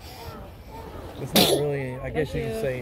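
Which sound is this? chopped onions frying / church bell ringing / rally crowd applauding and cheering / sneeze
sneeze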